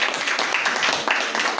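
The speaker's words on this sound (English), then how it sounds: "Another clap for our young people." Audience applause at a Liberian trade and investment event, a brief burst of dense clapping from a crowd, fairly loud and steady.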